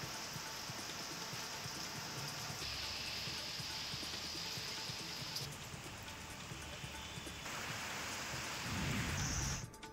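Heavy rain pours down in a dense, steady hiss, with a low rumble that swells near the end.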